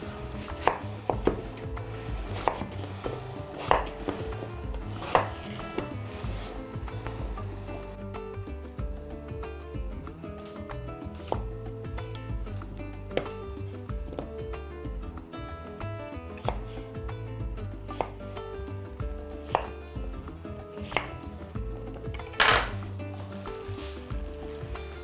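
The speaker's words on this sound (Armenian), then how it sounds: "Միջին կտորների, ոչ թե մանր, այլ միջին կտորների կտրատենք, թող արագ եփվի։" Potatoes being chopped into medium pieces with a knife on a board, a steady series of sharp close taps at an irregular rhythm over a low background hum.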